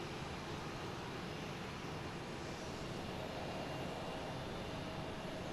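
A Delta Boeing 757 coming in to land at Boston Logan, heard as a steady, broad jet roar that stays fairly faint and distant, with no voices over it.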